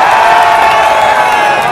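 A stadium crowd of Corinthians fans roars loudly and steadily, a dense wall of shouting voices close around the listener without pause.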